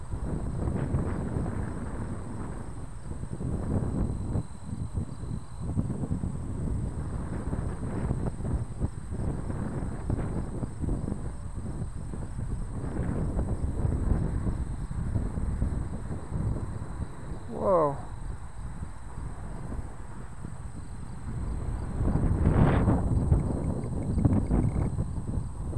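Strong wind buffets the microphone during a flight of a Hobby King Hawker Tempest RC plane, a continuous low rumbling roar that swells and dips for the whole stretch.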